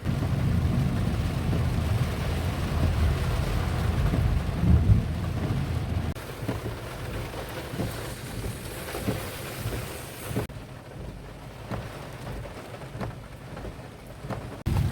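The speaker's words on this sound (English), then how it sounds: "happy to see the rain coming down the way it is" Steady rain pours down in Yarmouth, Nova Scotia, heavy at first and then lighter, with scattered drops pattering on a surface nearby.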